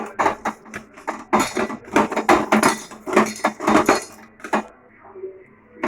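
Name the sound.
mixing six boiled eggs with salt and turmeric in dish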